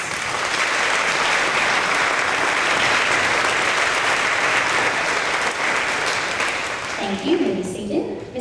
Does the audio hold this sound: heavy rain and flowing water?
no